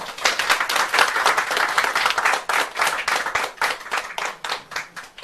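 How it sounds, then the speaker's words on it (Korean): A crowd claps enthusiastically, loud and sustained, with individual claps audible in an uneven rhythm that swells and fades near the end. "환영의 박수 크게 부탁드리겠습니다"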